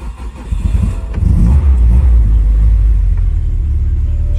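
An unhealthy car engine cranks and catches, then settles into a loud, rough, rumbling idle close by.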